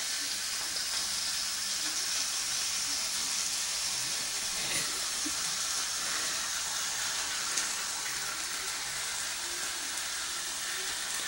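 Bacon sizzling in a hot pan during brunch cooking, a dense, even frying hiss that runs steadily throughout with faint scattered clicks, close and constant with no talking.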